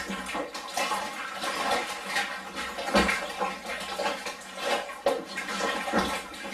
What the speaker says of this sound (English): And give it another stir.